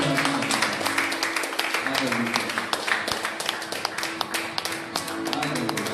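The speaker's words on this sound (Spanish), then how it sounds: "Dale un fuerte aplauso." Sparse, sharp handclaps ring out from a church congregation in a reverberant hall, irregular and rather thin, with voices murmuring underneath.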